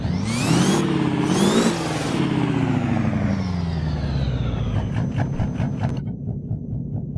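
A modded 1986 Ford F350 engine in a video game revs up hard twice, then winds down through a long falling pitch into a lumpy, loping V8-like idle, loud and close.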